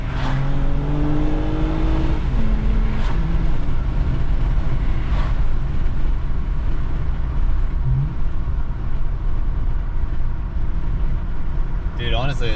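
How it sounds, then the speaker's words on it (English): A 2021 Toyota Camry TRD's engine revs up and then drops on a downshift, with the rising and falling engine note loud and close inside the cabin, and a voice cuts in near the end. "listen to a downshift"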